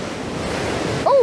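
Incoming tide on a coastline, waves washing and breaking in a steady broadband rush mixed with wind noise, ending in a brief sharper burst of water near the microphone.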